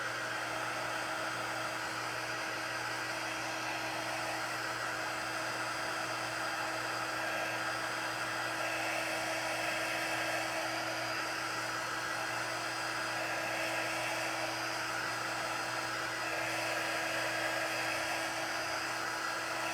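Hair dryer blowing steadily on freshly applied chalk paint, a continuous close whirring hum with a fixed motor tone that runs unbroken throughout, with no talking.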